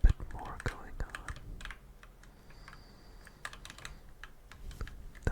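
Clicky computer keyboard typing while The Binding of Isaac is played, soft close keystrokes in quick irregular bursts, quiet and intimate throughout.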